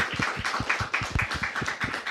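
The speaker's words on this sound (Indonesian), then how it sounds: "Kita berikan tepuk tangan untuk Prof. Alex." Studio audience applauding a guest on a talk show, steady rhythmic hand clapping from a small group, close and brisk throughout.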